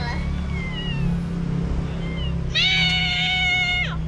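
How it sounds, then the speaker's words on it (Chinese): Near the Badouzi railway station, a cat gives one loud, close, drawn-out meow toward the end, after fainter meows earlier, all over a low rumbling background hum. "这边有猫咪啊，走走。"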